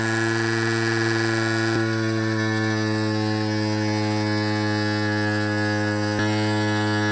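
An electric pump inflates an e-bike tire to 30 PSI with a loud, constant droning hum that has strong tonal harmonics and runs unbroken through the whole clip.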